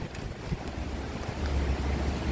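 Sea and strong wind on the Hong Kong waterfront during a typhoon signal no. 8, a low rumbling wash of waves with gusty wind buffeting the microphone, steady and fairly close, with no voices.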